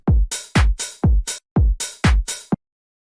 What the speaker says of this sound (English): And then there is a sharp, big open hi-hat on it